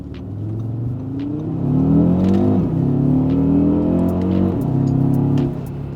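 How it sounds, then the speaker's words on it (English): A 2024 Audi RS Q3 accelerates hard, its loud, close engine note climbing steadily through the revs with a brief dip partway through, a turbocharged surge with no voices over it. "it sort of just gets on the turbo and boost, wastegate cracks"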